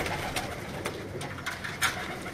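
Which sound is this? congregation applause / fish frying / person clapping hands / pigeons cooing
pigeons cooing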